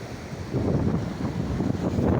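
Sea waves rolling in at the shore, a continuous low washing rumble mixed with wind, steady and fairly close throughout.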